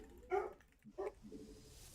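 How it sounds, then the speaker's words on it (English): A dog gives two quick, fairly faint barks about two-thirds of a second apart, heard from a distance indoors. "the dog is barking"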